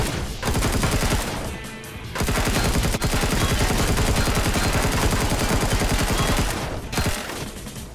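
Dense, continuous rapid gunfire from a StarCraft video game mod rattles loudly in long sustained bursts, with a brief lull between volleys.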